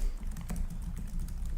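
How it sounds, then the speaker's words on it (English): Quick typing on the keyboard of an Acer Predator Helios 300 gaming laptop with a GTX 1660 Ti, a close run of light, soft key clicks over a low background hum. "Keyboard feels great."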